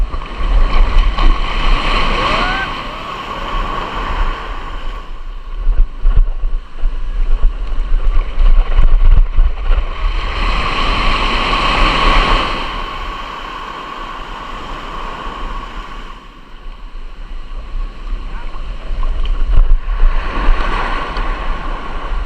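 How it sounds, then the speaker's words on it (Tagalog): Big sea waves surging around a small fishing boat out with nets, a continuous loud wash of water and rumble that swells and recedes in several broad surges. "Malaki alon mga kalambat."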